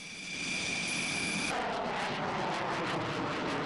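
Steady, loud broadband roar of a Rafale fighter jet's engine in flight during a Bastille Day flypast rehearsal, heard from the cockpit. A high whine drops away partway through, and no one speaks.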